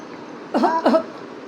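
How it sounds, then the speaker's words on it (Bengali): A child gives two short, close coughs in quick succession in a quiet room. "কাশি হয়েছে একটু জল দাও খাবো"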